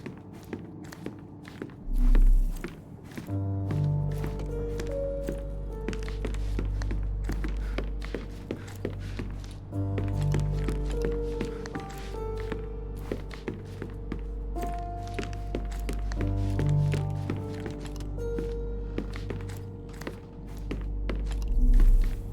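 Footsteps creak across the floor upstairs in a Sherlock Holmes video game, a steady run of soft thuds and taps spread through the whole stretch under a constant tonal music bed, with louder knocks near the start and end.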